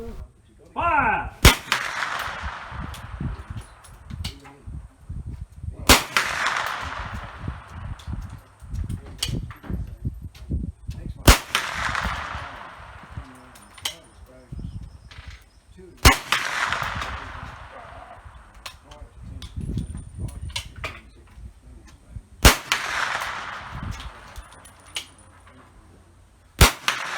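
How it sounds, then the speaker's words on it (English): A .310 Martini Cadet single-shot rifle fires timed rapid shots at 50 meters on an outdoor range, sharp loud cracks about every five seconds, each followed by echo and the clatter of reloading. "fire as many rounds as you can get away at 50 meters"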